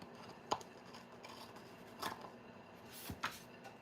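Scissors snip through paper during a craft session, three short quiet cuts spaced about a second apart over a faint room background, with no talk.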